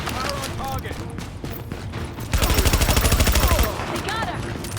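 Gunfire in the video game Tom Clancy's The Division: a rapid automatic burst with a rhythmic pulse of shots following scattered single cracks, set against ambient battle noise.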